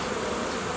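Honey bees buzz at a hive entrance during a nucleus colony expansion, a dense, steady, close swarm drone that continues through the whole moment.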